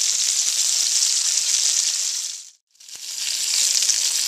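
Cod tongues sizzle loudly in fatback oil with scrunchions, a dense close frying hiss that briefly drops out to near silence before resuming.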